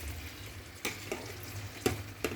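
Içli köfte dumplings boil in a pot of water, a steady bubbling hiss broken by a few sharp pops and splashes close by.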